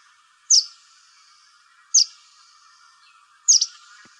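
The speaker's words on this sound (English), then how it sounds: "I'm going to play the verdin from the library so that we can hear what that sounds like." A recorded verdin song plays: three short, bright high calls spaced about a second and a half apart, each with a brief trailing buzz, clear and isolated against a quiet background.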